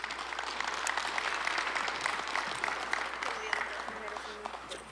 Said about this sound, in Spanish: Yo quisiera pedirles unas palmas para ellos,